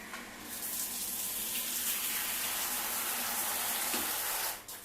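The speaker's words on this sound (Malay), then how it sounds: "Dan boleh buka air lah." Water runs steadily from a tap after a water heater is reset, a continuous hissing splash that stays loud and even for a few seconds before tapering off.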